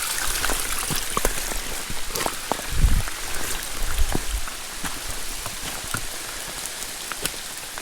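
Rain falls steadily on a hiking trail in the western Pyrenees mountains, a dense close patter with sharp individual drips and a brief low thud partway through.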